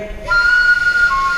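A shrill, thin squeak from a Thai khlui flute with finger holes not fully sealed cuts in suddenly and wavers, breaking to a lower pitch near the end.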